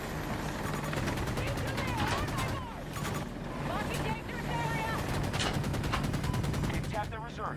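Battlefield 2042 combat with sustained rapid automatic gunfire, dense and loud throughout, with a steady engine drone underneath and brief voices mixed in.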